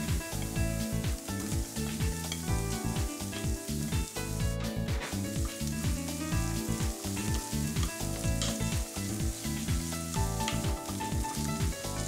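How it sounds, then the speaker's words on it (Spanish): Continuous loud sizzling of chopped onion, garlic and ham frying in a casserole pot, steady and close, with occasional stirring. "picando cebolla, ajos y jamón y sofriéndolos en una cazuela."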